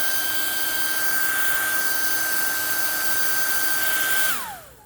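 A hair dryer blows on an oiled Kenmore sewing machine, a steady high whine and airy rush held close and loud for several seconds before the motor winds down and cuts off.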